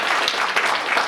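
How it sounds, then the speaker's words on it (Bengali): Crowd applause at a cricket fan group's seventh anniversary gathering, a dense continuous patter of many hands clapping that fills the room steadily throughout. "ওর জন্য একটা হাততালি আমরা সবাইকে দিই।"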